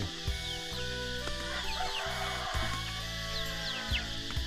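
Chickens clucking and a rooster crowing at a hilltop farm of an Iu Mien village in the morning, with dense overlapping calls close by and continuous barnyard clatter.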